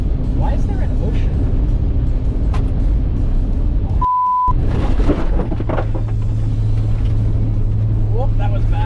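Toyota Supra driving over a corrugated outback road, with a loud continuous rumble and rattle from the road surface, a brief beep tone midway, and a steadier low drone later, with a person talking over it.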